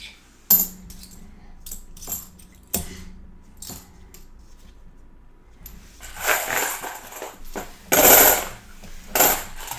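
Clad coins are shuffled and dropped by hand while searching coin rolls, giving repeated bright metallic clinks and jangling clusters, with louder rattling bursts near the end, all close up and without talk.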